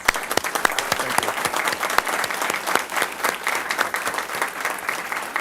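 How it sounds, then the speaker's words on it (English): A room full of people at a city council meeting claps steadily, a warm, dense round of applause from start to finish. "Big round of applause."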